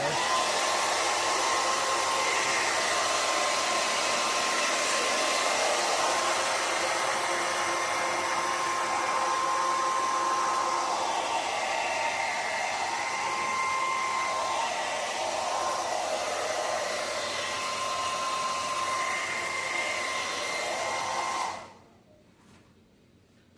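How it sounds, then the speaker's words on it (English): A hair dryer, used to dry a 1995 Mercury outboard cowling, blows steadily with a loud, constant whooshing hum for about twenty seconds, then cuts off abruptly. "Use this hair dryer."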